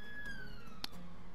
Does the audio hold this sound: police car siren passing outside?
yes